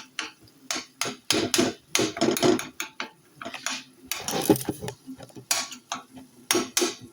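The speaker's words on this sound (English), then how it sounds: "Chop the ground beef up with your spoon or your fork." Repeated clanking scrapes of a spoon chopping ground beef in a pan, a quick irregular run of close metallic knocks and rattles with short gaps, no voice.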